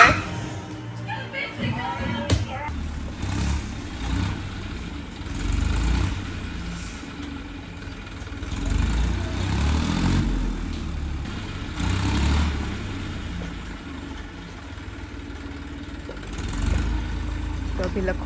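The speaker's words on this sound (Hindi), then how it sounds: "अभी लखू भाई आए हैं थ्रेसर मशीन और ट्रैक्टर को लेने के लिए" A farm tractor idles steadily with a low, continuous engine rumble, waiting to be hitched to a threshing machine for peanut harvesting, while people talk over the running engine throughout.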